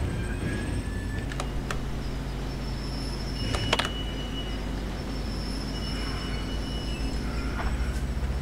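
A video-game train rumbles along steadily with a low mechanical drone, punctuated by a few sharp metallic squeals and clanks, no voices.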